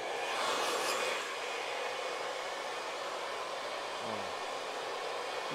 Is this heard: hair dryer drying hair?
yes